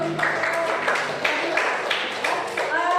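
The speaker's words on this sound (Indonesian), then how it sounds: "Oke, kasih tepuk tangan dulu." Classroom applause for a student's answer, a group of students clapping nearby in a brisk, even rhythm, with some voices underneath.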